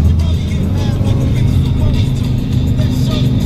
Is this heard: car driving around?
yes